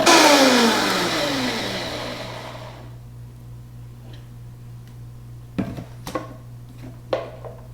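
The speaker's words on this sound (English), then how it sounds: "And now we will give that a blend." A kitchen blender whirs loudly through a raw chipotle-lime dipping sauce with filtered water, then winds down and falls quiet within about three seconds, followed by a few faint clicks and knocks.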